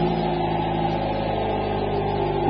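A car with a suspected single-mass flywheel fault runs steadily in a shop, a loud, continuous engine drone with a strong low hum and no clear start-up burst, close by and alone.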